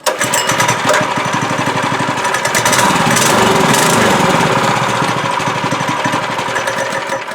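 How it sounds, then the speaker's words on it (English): MB200 mini bike engine running loudly and steadily at close range, with a rapid pulsing small-engine rumble sustained throughout and no talking. "The engine starts on the first pole."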